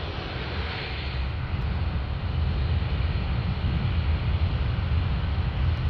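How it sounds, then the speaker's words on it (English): A QantasLink McDonnell Douglas MD95 airliner comes in to land at Canberra International Airport, its engines a steady, loud roar with low rumble and broad hiss that holds throughout, no talk over it. "Oh, there's actually a plane coming into land."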